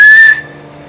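A single loud, shrill whistle blast rings out briefly, then cuts off into low background noise.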